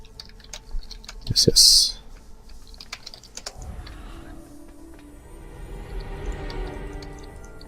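Computer keyboard typing during a World of Warcraft session: a quick burst of clicky keystrokes up front, a sharp louder clack, then a soft low hum as a voice speaks briefly.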